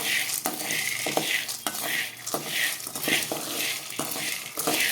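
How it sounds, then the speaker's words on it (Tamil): Black-eyed peas dry-roasting in a kadai are stirred with a spoon in a steady rhythm, giving repeated scraping and rattling strokes over a soft hiss, close and alone. "பொன்னிறமாக வறுக்கணும்."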